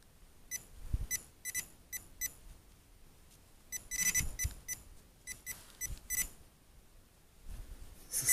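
A handheld metal detector gives short, high electronic beeps in irregular bursts, some single and some in quick clusters, over faint rustling and quiet handling noises.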